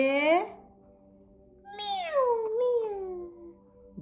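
A voice imitates a cat with two drawn-out meows, the second longer and wavering, in an otherwise quiet room.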